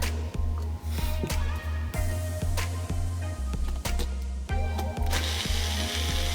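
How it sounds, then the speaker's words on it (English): A blender whirs loudly and steadily through a fruit smoothie with lemon juice added, its low motor hum punctuated by regular clacking pulses from the blade and jar, close up with no voices. "Continue blending."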